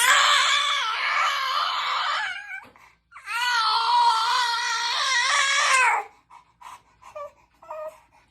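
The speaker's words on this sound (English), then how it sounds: "She found her voice, so she just screams all day" A baby girl screams in two long, loud, strained bursts with a short gap between them, then gives a few brief whimpers and breathy sounds.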